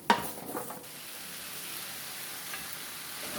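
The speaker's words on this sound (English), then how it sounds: "I have my skillet here that I am browning my ground turkey in" Ground turkey browning in a skillet, giving a soft, steady sizzle after a brief clatter of stirring at the start, faint and close.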